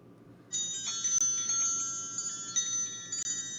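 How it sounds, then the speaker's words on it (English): Stream alert chimes on a Twitch chatbot ring out as steady bright tones over a low background hum, with a few light clicks, continuing for several seconds. "Kevin Evans with the chimes."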